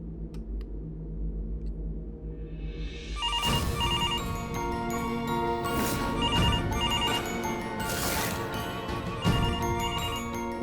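A mobile phone ringtone starts abruptly after a quiet, humming room and plays on loudly with a repeating melodic pattern, close by and alone without talk.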